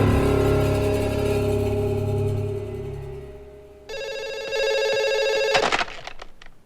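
A telephone rings in a hotel scene from a film. A sustained low tone fades out, then a sharp, bright ringing burst sounds for about a second and a half before ending in a few clattering knocks.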